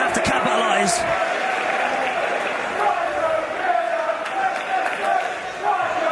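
A wrestling crowd at a PROGRESS Chapter 36 match in 2016 cheers steadily, a broad continuous roar of voices with scattered claps, while a commentator talks over it.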